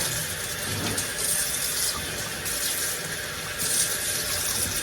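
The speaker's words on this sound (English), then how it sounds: "I'm going to rinse them off, and I'm going to clean this pot out" Tap water runs steadily into a sink as pork neck bones are rinsed in a kitchen, a continuous close splashing hiss with no talking.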